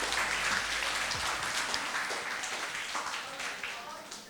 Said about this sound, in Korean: 자, 우리 여러분 모든 친구들 박수.